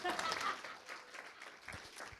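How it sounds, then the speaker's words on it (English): Applause from an audience at an education policy launch event, a soft, steady wash of clapping that tapers slightly after the first half second, heard at a distance and fairly quiet. "A big thank you to To Tony, huge round of applause."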